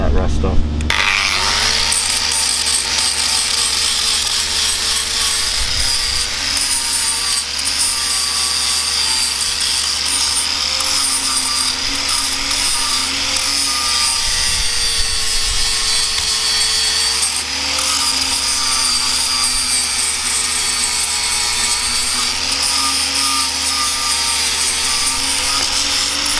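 An angle grinder fitted with an old flat sanding disc grinds rust off metal in a yard, a continuous loud whirring abrasive drone with slight pitch wavers as pressure changes.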